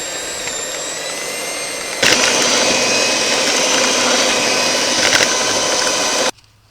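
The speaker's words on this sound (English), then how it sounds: "Put it on the mixer and we'll mix it all up." An electric mixer whirs steadily as it blends cream cheese and butter at a campfire cooking spot, starting softer, then jumping to a loud, constant drone before cutting off abruptly near the end.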